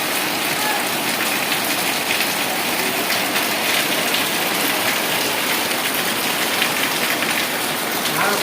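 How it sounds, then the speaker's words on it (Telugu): Heavy, steady rain pours down without letup in Gujarat, a dense hiss of drops hammering surfaces throughout, loud and close. "ఇక్కడ వచ్చేసి పెద్ద వర్షాలు పడుతున్నాయనేది"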